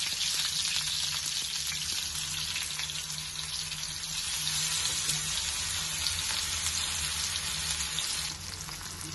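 Masala-coated fish pieces fry in hot oil with curry leaves, giving a loud, steady, dense sizzle and crackle that runs unbroken throughout, with no voices.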